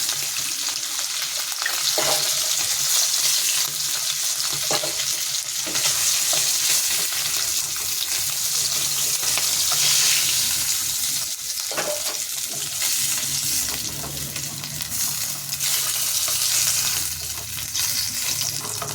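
Salted fish frying in a pan, a loud, dense sizzle and crackle with stirring scrapes, close and continuous throughout with no talking.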